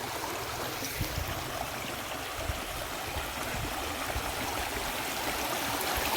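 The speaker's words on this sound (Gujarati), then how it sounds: "નાનું એવું નેરું છે પણ પાણી કેવું વહેતું છે ને અવાજ કેવો આવે પાણીનો એ જોઈ લો" A small village stream flows with a constant, full rush of water close by, steady and unbroken, with no one talking.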